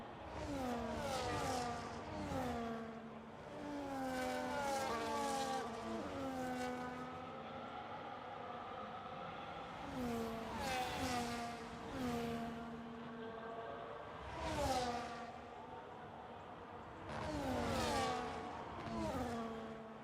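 Formula race cars in a sim racing game at the Japanese GP, engines rising and falling in repeated revving sweeps as cars pass and shift gears, steady and moderately loud throughout.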